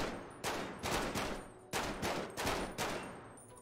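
Bursts of gunfire in a FivePD police roleplay game, about six sharp reports in two uneven volleys, each with a fading echoing tail, moderately distant and fairly quiet, with no talking.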